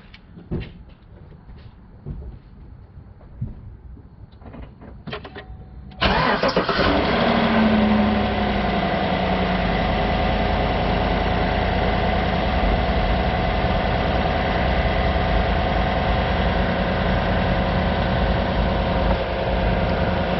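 A car engine is cranked and starts with a sharp catch around the middle, then settles into a loud, steady close idle; quiet clicks and handling noises come before, with no talking.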